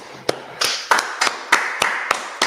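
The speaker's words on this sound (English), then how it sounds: "All right, everybody clap it up." Rhythmic clapping from a gathered audience: about eight sharp, crisp claps land in a steady beat roughly a third of a second apart, loud and close, with no voices over them.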